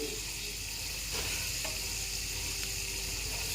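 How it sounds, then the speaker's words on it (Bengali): Chana dal frying in a pan, a soft, faint, steady sizzle close by with no voices. "ভেজে নিচ্ছি"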